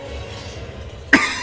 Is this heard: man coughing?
yes